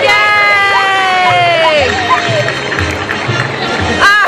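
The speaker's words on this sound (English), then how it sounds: "Let's give a nice round of applause to our two canines, Archer and Finnegan." An audience at a K9 police dog demonstration applauds in a dense, steady wash of clapping, with a loud voice cheering over it and crowd noise throughout.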